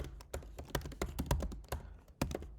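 Typing on a computer keyboard while entering a configure command for a Sod shocktube hydro simulation: a quick, irregular run of close key taps with brief pauses, with no speech over it.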